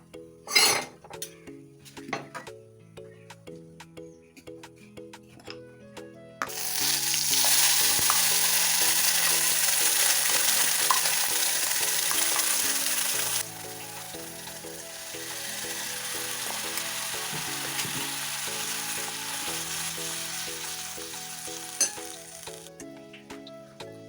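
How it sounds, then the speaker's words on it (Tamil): A pan sizzles loudly after a few clinks of a spoon against metal as Kerala coconut chutney boils, the frying hiss steady and then easing to a softer simmer with occasional stirring. "பாக்கி உள்ள சட்னியை வந்து கொதிக்க வைக்கணும்"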